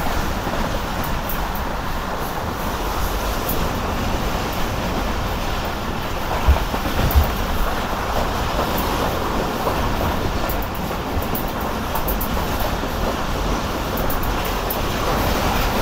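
The Karakoram Express runs fast, heard from inside its old coaches: a constant loud, rattling broadband roar of wheels and track that continues steadily throughout, with no one talking.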